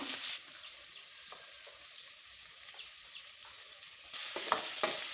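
Onions go into hot oil with popping mustard seeds and lentils, making a steady close sizzle and crackle that grows louder and busier toward the end.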